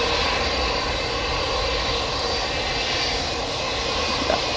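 Jet airliner engines run at Manchester Airport, a TUI A320 operated by SmartLynx among them, producing a loud, steady, sustained roar with a thin high whine, heard alone and close.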